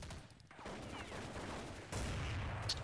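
Counter-Strike 1.6 gunfire rattles in rapid dense bursts, fairly quiet and continuous with a slightly heavier volley near the end, no one talking.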